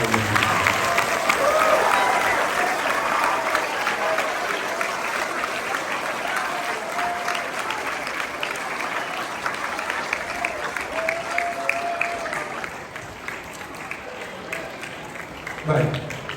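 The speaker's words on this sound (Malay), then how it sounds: "Sekali lagi saya mohon kepada anak-anak berikan tepuk tangan kepada mereka." Schoolchildren applaud at a retirement farewell for a teacher, a loud sustained wash of clapping that fills the room, thinning toward the end with a few louder claps.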